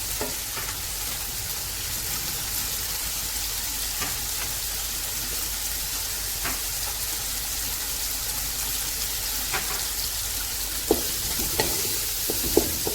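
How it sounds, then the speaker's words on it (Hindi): Spices fry in a pan for stuffed bitter gourd, a steady close sizzle with stirring scrapes and occasional sharp clicks of a spoon against the pan, continuous and moderately loud. "इसे अच्छी तरह से भून लेंगे।"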